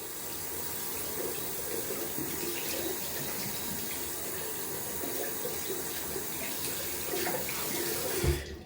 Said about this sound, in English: So I'm just rinsing here under lukewarm tap water, making sure I get out every bit of soap.